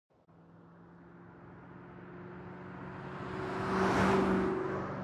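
A car driving in the Saints Row game, its steady engine hum building gradually to a louder, fuller peak before easing slightly, heard alone without voices.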